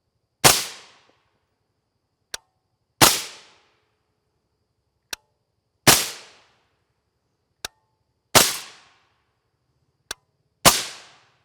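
5.56 NATO 55-grain FMJ rounds fired from a 14.5-inch AR upper: five sharp, loud gunshots roughly two and a half seconds apart, each with a short decaying tail, separated by faint metallic clicks.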